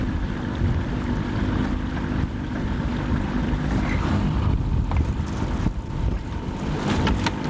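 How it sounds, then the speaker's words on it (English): Wind blows steadily outdoors at Deer Creek, Ohio, during a duck hunt, a loud, continuous roaring rush buffeting the microphone without letup and without voices. "Wind picked up out here."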